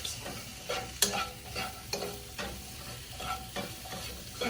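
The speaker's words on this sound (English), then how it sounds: "Keep stirring these around so we can get these cooked." A cheesesteak-style filling for stuffed peppers fries in a pan while a spatula stirs it, giving a steady sizzle broken by repeated close scraping strokes, with no voices.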